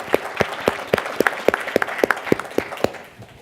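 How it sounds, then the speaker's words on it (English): A small audience applauds panelists at the close of a civil-society discussion on Venezuela, with sparse, distinct claps in an irregular rhythm, fairly near and moderately loud, and no talk over them. "please, a round of applause for our panelists."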